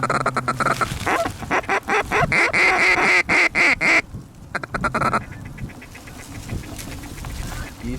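Geese honk repeatedly during a snowstorm goose hunt in Minnesota, a dense run of loud, nearby calls overlapping in quick bursts, then thinning out over steady wind and background noise.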